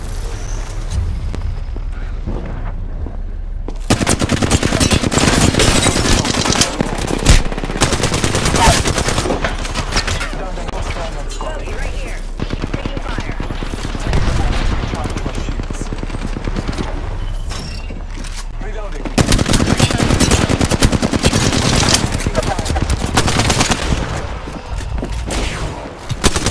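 Gunfire in the Apex Legends video game: dense, loud automatic bursts and heavy shots coming in long waves with a short lull near the start, close and almost unbroken.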